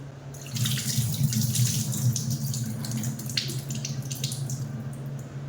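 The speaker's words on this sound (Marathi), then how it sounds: "स्वच्छपैकी आपण ही डाळ धुवून घेणार आहोत" Moong dal lentils being rinsed in a sink under a running tap, a steady close gush of water with splashing and swishing as the grains are washed, continuous throughout without talk.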